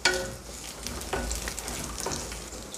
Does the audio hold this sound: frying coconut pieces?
yes